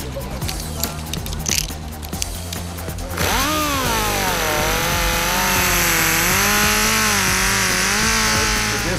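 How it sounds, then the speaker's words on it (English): Power grinder working down a steering gear tooth on a 4x4 off-road vehicle, a loud sustained whine that rises and wavers in pitch after a few seconds of clattering handling noise, close to the listener. "this one looks ready enough till we can grind this down and make it look like the other tooth"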